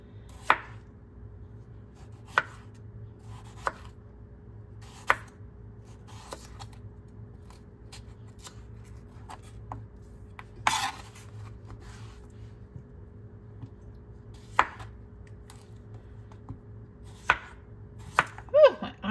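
A knife slices potatoes thin on a cutting board, sharp isolated cuts landing at irregular intervals, close and crisp over a quiet kitchen background.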